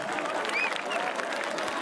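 Crowd clapping at an outdoor concert at a winter festival, a short dense patter of applause at moderate distance with voices mixed in.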